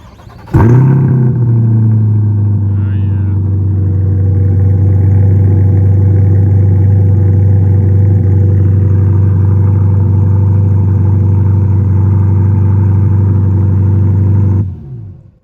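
A 2025 Corvette C8 Stingray with an SPD-Z1 exhaust is remote started: a sharp crank and loud catch, then a deep, steady, close idle that holds for about fourteen seconds before cutting off.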